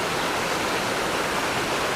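A river along a walking path beside an old bridge rushes steadily, a dense broadband wash of flowing water, close and constant with no voices.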